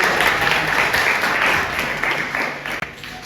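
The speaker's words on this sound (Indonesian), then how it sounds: "Oke, tepuk tangan." Students clapping in a classroom counseling lesson, a short burst of applause with brief murmuring, fading out after about three seconds.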